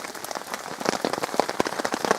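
Rain patters steadily on a tarp or shelter at an overnight woodland camp, a dense close rattle of individual drops with no talking.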